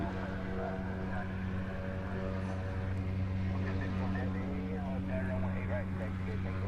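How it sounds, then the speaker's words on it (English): FedEx feeder plane revving its engines on the apron before departure at an airfield in Hawaii, a steady droning hum with strong low tones running throughout, fairly distant, with people talking over it. "That plane making all the noise that you hear is the FedEx feeder. It is revving up over here."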